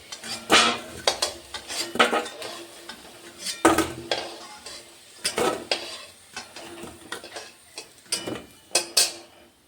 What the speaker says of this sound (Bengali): আলুগুলো ভাজা হয়ে গেছে, এখন উঠিয়ে নিচ্ছি